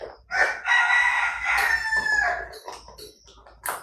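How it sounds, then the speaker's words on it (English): Rooster crowing close by in a long, loud drawn-out call, followed by a few shorter clucks and squawks from farm chickens, with no talk. "My chickens say good morning."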